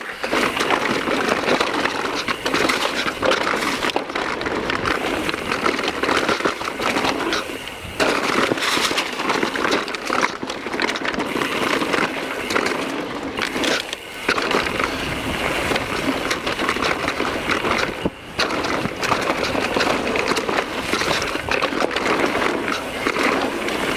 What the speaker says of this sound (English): You're gonna hear a lot of clatter, just so many loose rocks.